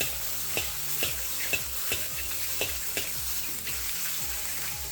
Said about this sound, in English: And you can even hear the sizzle.